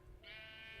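A sheep bleats in modded Minecraft, one drawn-out wavering bleat over a low background hum, moderately close with no talk.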